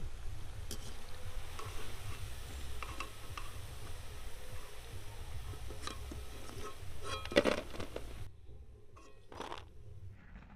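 Vegetable pakoras sizzle steadily in hot oil, a soft continuous frying hiss with faint clinks near the end as the fritters are lifted out.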